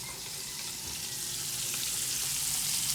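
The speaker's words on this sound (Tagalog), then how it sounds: "Pritong isda." Fish frying in a pan at home, a steady bright sizzle with soft crackle holding at an even, moderate level throughout, no voices over it.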